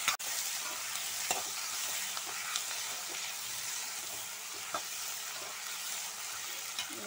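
Chana masala base sautéing in a pan, a steady soft frying hiss with occasional faint clicks of a spoon against the pan, fairly quiet and continuous.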